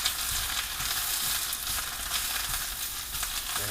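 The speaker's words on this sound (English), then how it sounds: "And just put my spinach in there. And it's going to cook real quick" Spinach going into a hot pot for wedding soup, a steady close sizzle and crackle of frying greens with faint stirring noises, no voices.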